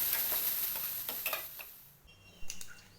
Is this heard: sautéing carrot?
yes